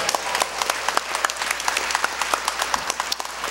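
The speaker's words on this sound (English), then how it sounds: "let's give a nice round of applause individually" Concert audience applauding performers at a Detroit artists' show, steady dense clapping throughout with sharp individual claps standing out, fairly close and loud, no speech over it.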